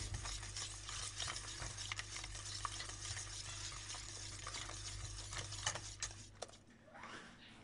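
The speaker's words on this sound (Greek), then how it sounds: "Προσθέτω μέσα και το βούτυρο και ανακατεύω μέχρι να λιώσει." Butter stirred into a warm, just-removed-from-heat mixture for ekmek-kataifi until it melts: a soft, continuous scraping and swishing of spoon against pot, fairly quiet and steady with no talk.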